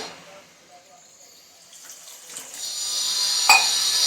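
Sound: water being poured

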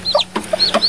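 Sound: newly hatched Silkie chicks

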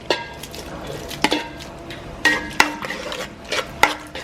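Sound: tomato paste being sautéed in a pot over charcoal

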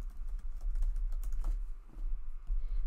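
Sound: typing on a computer keyboard

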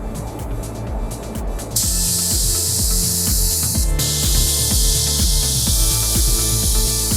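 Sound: spray gun applying a second coat of clear lacquer

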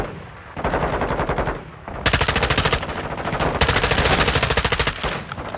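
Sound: gunfire from a gun in the video game Call of Duty: Modern Warfare II

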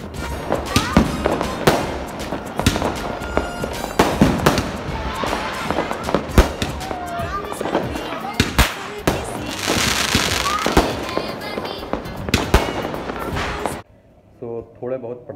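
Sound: Diwali firecrackers exploding

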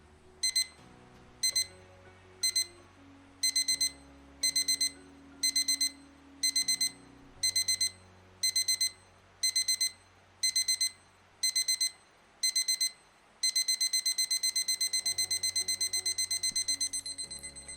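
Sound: LED wall clock alarm getting louder

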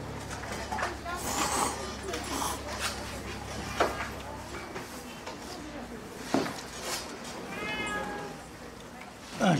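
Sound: cat meowing

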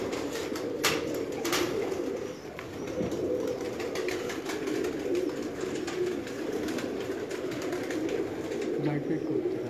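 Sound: pigeons cooing in a loft

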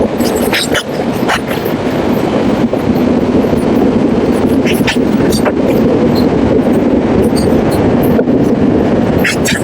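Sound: Kirandul Express train departing Shivalingapuram station

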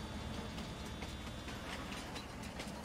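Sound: train departing in the video game Farming Simulator 19

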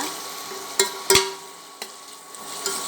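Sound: onions frying in a pan

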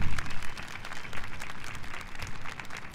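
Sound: applause for graduates

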